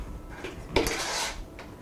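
Tofu kabob ingredients being folded together in a bowl with a utensil, giving a brief cluster of clinks and scraping rustles in the middle, with quieter handling sounds before and after.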